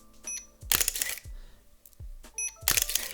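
Several crisp mechanical shutter clacks from a Hasselblad H3D medium format camera, each a loud close snap with a brief whir and ringing tail, spaced irregularly and heard alone.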